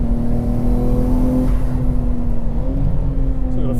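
Nissan Skyline GT-R engine accelerating around The Bend circuit, a steady loud droning note that holds throughout and rises slightly in pitch toward the end, heard from inside the car without talk.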